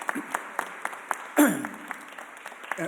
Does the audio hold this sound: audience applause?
yes